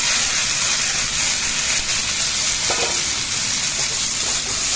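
Pumpkin pieces frying in a pan give a loud, close, continuous sizzle and crackle that holds steady throughout, with faint clatter of the pan.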